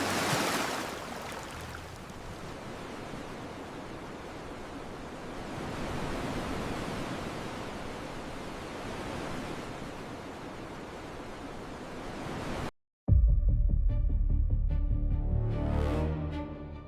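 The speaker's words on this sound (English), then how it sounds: "The waves slowly swallowed them both." Ocean waves wash in a continuous soft roar of surf, with gentle swells for about twelve seconds, then cut off into a brief silence followed by a different, louder tonal passage.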